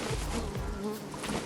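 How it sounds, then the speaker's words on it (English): Bees buzzing near the telescope spots on the Fortnite island make a close, droning insect hum that wavers in pitch and stays fairly quiet. "What's interesting at these spots is the sound of bees."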